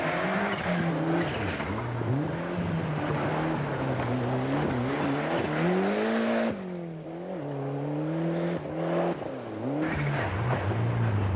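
A Group N Ford Escort Cosworth rally car drives hard on a wet stage, its engine loud and close, revving up and down through the gears with a short dip in the middle, with no talking.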